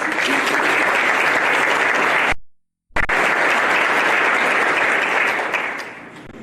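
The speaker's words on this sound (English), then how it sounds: "If we could give them a round of applause." Dense, sustained applause from an audience at a city's State of the City event, loud and steady, with a brief abrupt gap of silence before it resumes just as strongly.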